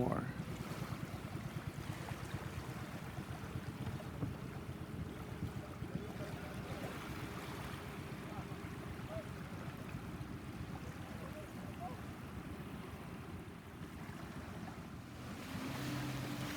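A fishing boat's motor drones steadily as it passes on the sea near a river mouth, blending with wind and breaking surf in a continuous, moderately distant rumble.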